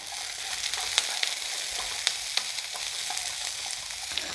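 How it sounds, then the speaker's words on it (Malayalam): Finely chopped shallots fry in a pan for a beef kondattam dish with a dense, steady crackling sizzle. A few sharp pops and utensil clicks rise above it, heard up close. "ഇതിലേക്ക് നമ്മൾ ഇട്ട് കൊടുക്കുന്നത് ഇതാ ഒരു 150 ഗ്രാം ചെറിയുള്ളി ചെറുതാക്കി അരിഞ്ഞതാണ്"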